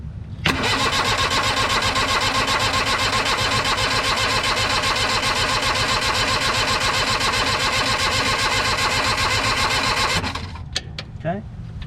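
A New Holland LS125 skid steer engine cranks and catches at slightly above idle, running loud and steady close by for about ten seconds before shutting off, with a few clanks and a voice at the end.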